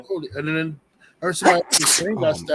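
One sharp, hissy sneeze bursts out between stretches of close conversation, with people talking just before and after it.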